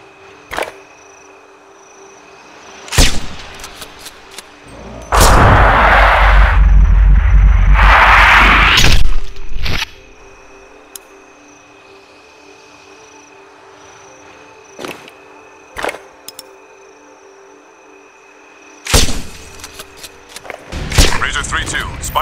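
Gunfire in the video game Sniper Ghost Warrior 2: a few sharp shots, the loudest a sustained heavy blast burst in the middle, with intermittent lighter reports and game ambience around them.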